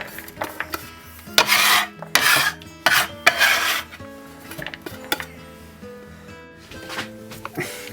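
Chopped onion tipped into a bowl of sausage meat, close scraping and rubbing of a utensil against the bowl in bursts, with clattering knocks and short pauses between strokes.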